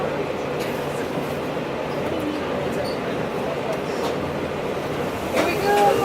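Rocky Mountaineer passenger train rolling through the spiral tunnels, a steady dense rumble throughout with brighter metallic squeal and rising clatter near the end; faint talk underneath.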